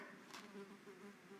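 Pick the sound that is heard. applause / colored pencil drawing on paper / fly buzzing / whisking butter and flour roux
fly buzzing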